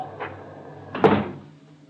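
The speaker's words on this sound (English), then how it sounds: "Suddenly, the front door swings open." The front door of a log cabin trading post in an old radio drama swings open, a faint creak followed by a louder wooden thump near the end, otherwise quiet.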